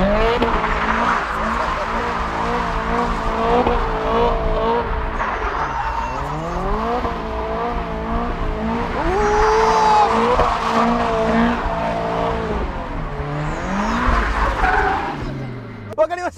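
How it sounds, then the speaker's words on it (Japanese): A car drifts on a mountain pass after a clutch kick, its engine revving hard and rising and falling in pitch while the tires squeal loudly and continuously, with people talking excitedly over it. "クラッチバン行くよ"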